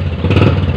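A fuel-injected Honda motorcycle engine is revved with the throttle for a TPS sensor test, a loud, close, steady mechanical roar over the whole short stretch with no voices.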